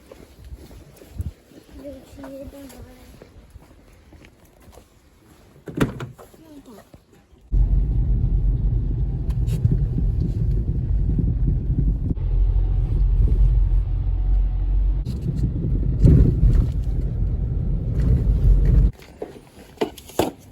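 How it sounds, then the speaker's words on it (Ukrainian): A family car's engine starts and runs with a deep, steady rumble close by, a door thud near the start, and a person talking before and over it on a rainy street. "Ось наша автівка."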